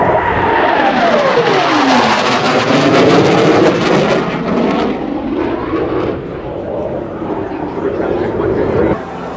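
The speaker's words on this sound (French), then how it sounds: "quand on conduit ce genre d'avion de chasse-là" F-18 fighter jet passing at about 0.9 Mach: a loud, sustained roaring jet rush with a falling, swooping pitch early on, then a steadier fading roar; speech is faintly present under it.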